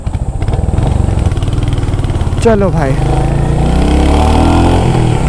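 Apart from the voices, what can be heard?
Royal Enfield Hunter 350 motorcycle engine revving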